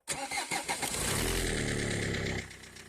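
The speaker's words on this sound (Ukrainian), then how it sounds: "провіряю запуск двигуна на старі акумуляторні батареї" A car engine cranks with rapid stuttering turns on an old battery at about 15°C, then catches and roars into a steady, loud idle that eases down near the end.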